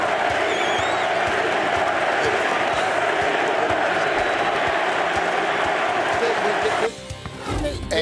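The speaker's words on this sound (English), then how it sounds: "And listen to the crowd." An NFL stadium crowd roars and cheers during a 2014 game, a loud, sustained wall of noise that drops off abruptly near the end, giving way to faint voices.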